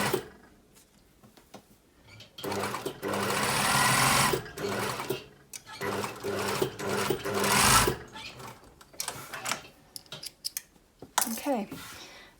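Sewing machine stitching darts on a blouse, running in a few loud steady bursts with short pauses between, with scissor-like snips and light handling noise in the gaps.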